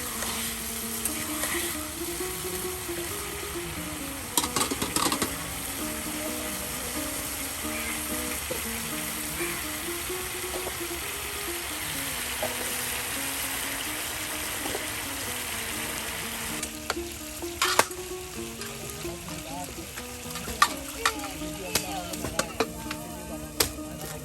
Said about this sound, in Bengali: টমেটোগুলো এই যে দিয়ে কিন্তু আপনার মশলার সাথে কষানো হচ্ছে